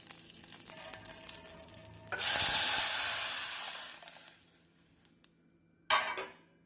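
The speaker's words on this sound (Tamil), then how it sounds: "இப்பொழுது நாம் கரைத்து வைத்துள்ள தக்காளி மிக்ஸை இதில் ஊற்றிவிடலாம்" Tomato mixture poured into a hot tempering for lemon rasam, bursting into a loud, sharp sizzle that gradually fades, with a second brief sizzle and light utensil clinks near the end.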